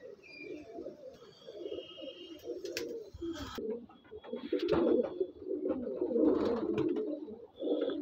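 Continuous pigeon cooing, several birds overlapping in low rolling calls, with occasional higher chirps and soft knocks.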